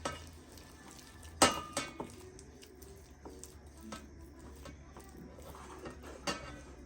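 Lamb ribs being mixed by hand with vegetable oil in a bowl, giving soft wet squelching and occasional clinks against the dish, with a sharper knock near the start, close and moderately quiet with no talking.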